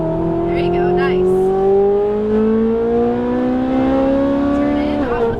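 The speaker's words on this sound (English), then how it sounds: "Smooth back on throttle all the way to full throttle." A Ferrari 458 Italia accelerates hard on a track, its engine note climbing steadily and loudly, then dropping abruptly near the end; a voice talks over it.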